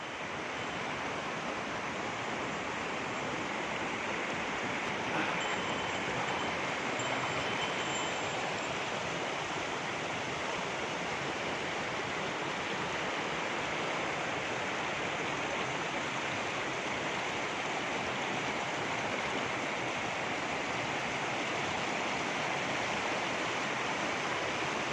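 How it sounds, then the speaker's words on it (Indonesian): Kalianjah waterfall in Sambik Elen, Bayan, North Lombok, roaring as a steady, dense rush of falling water that stays loud and unbroken throughout, with no voices over it. "Air terjun Kalianjah."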